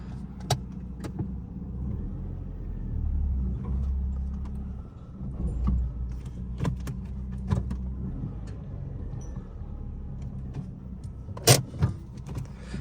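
A rebuilt Fiat 500 drives slowly back and forth, a faint low engine hum with scattered mechanical clicks and knocks from inside the car, no talking.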